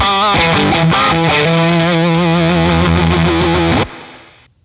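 Heavily distorted electric guitar through a distortion pedal plays sustained chords and bending notes, loud and thick, then cuts off abruptly, leaving a short fading ring.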